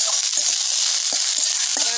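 Chopped coriander leaves sizzle steadily as they fry in a pan, a bright constant hiss broken by a few soft clicks and brief utensil knocks.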